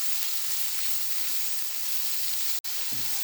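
A carrot mixture fries in oil in a pan, giving a steady close sizzle with a soft stirring scrape near the end and a brief dropout.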